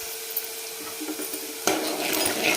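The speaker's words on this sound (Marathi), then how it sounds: "तर आपण आता हा कांदा परतून घेतो" Chopped onion being sautéed in a pan for a village-style breakfast made from leftover jowar bhakri, heard as a faint steady sizzle with light utensil scrapes and a sudden louder burst of frying and stirring partway through.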